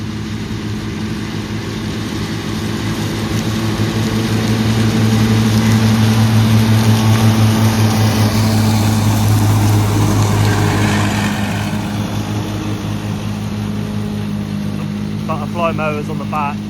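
A tractor working grass with butterfly mowers on the back and a front mower runs as a steady, loud, droning engine hum with a whirring mechanical texture, swelling slightly midway and continuing unbroken throughout.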